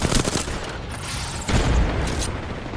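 Gunfire aimed at an enemy in a competitive shooter video game, a cluster of quick shots and muffled bursts with a louder thump midway, close and fairly loud over background game noise.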